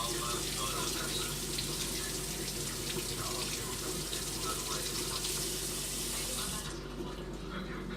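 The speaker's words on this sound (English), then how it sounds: "I'm going to rinse that under the tap" Steady water streams from a kitchen tap while a yabby shell is rinsed under it, a continuous close hiss and splash that runs nearly unbroken before cutting off near the end.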